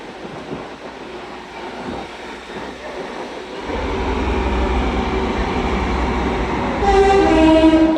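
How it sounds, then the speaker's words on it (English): A TransPennine Express Class 185 diesel unit bound for Scarborough passes at York on the East Coast Main Line. Its rumble swells, then a sharp, loud two-tone horn blasts close by near the end. "Sharp two-tone from the driver there, bound for Scarborough."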